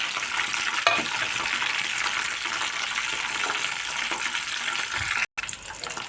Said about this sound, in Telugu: తాలింపు గింజలు, శనగగింజలు వేసుకుంటున్నాను.